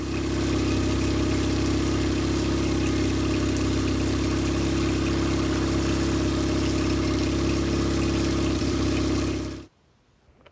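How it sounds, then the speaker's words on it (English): A four-stroke outboard motor runs at a steady idle with a constant mechanical hum and rumble, loud and close, before it cuts off abruptly near the end, leaving near silence. "give it another run and see"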